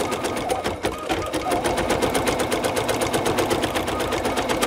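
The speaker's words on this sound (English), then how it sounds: "what you're seeing it doing is it's just doing the stabilization stitching that we put in" An embroidery machine stitching stabilization lines on a cutwork coaster, loud and close, with a fast, even needle rhythm running throughout.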